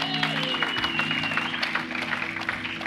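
A church congregation applauds during a sermon, steady clapping spread across the room over sustained music-like tones, with a voice briefly heard.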